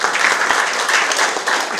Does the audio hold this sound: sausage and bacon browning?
no